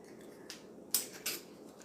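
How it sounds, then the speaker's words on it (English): Scissors snip through goat intestine in a home kitchen while preparing goat meat pepper soup, giving two or three crisp, close cuts over a quiet background. "And I'm going to be using my scissors to cut it."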